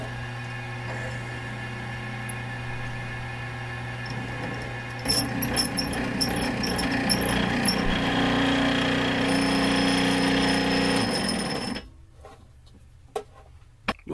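A power drill turning a bit, with a rotary tool burnisher attachment that wobbles: a steady loud whir and rattle that grows harsher midway, then cuts off abruptly near the end, leaving quiet room noise.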